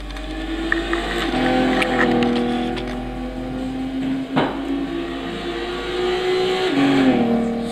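In the Gran Turismo 6 video game, an Audi TT 3.2 VR6 24V FSI quattro with a front-mounted 250-horsepower V6, dual-clutch six-speed gearbox and all-wheel drive runs at Interlagos, its engine droning loudly and steadily with pitch rises and falls through shifts.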